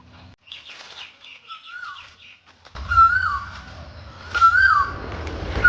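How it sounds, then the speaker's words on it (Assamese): An Asian koel calls outdoors by a river lined with green trees, its clear rising whistled notes repeating over steady flowing-water or wind rumble, with softer bird chirps earlier. "কুলি চৰাইৰ মাত শুনি কেনেকুৱা লাগিছে বাৰু কমেণ্ট কৰিব।"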